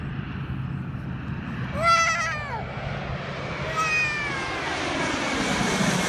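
A propeller airplane passes overhead outdoors, a faint steady drone with rising whining tones swelling twice before fading; a child's brief vocal sounds are mixed in.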